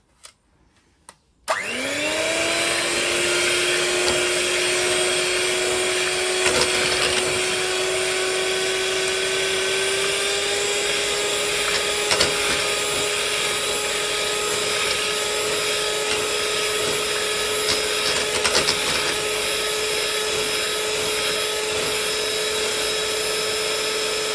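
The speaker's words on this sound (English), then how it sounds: "So I'm going to whisk this up." An electric hand mixer whisking cream whirs loudly and continuously for over twenty seconds after a sharp switch-on, holding an even high whine throughout.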